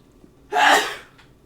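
A single loud, close sneeze in an indoor room, a sharp breathy burst that fades quickly, with near-silence before and after.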